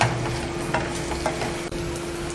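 Tamarind and chillies sautéed in oil for South Indian tomato chutney make a short, close, even sizzle with a few light stirring taps and a faint hum underneath, no speech.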